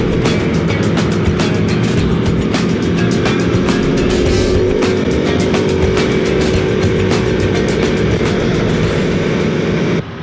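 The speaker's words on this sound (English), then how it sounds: "This bike sounds good." Aprilia Tuono V4 motorcycle engine while riding, a loud continuous drone with steady rumble and wind roar throughout, close and unbroken.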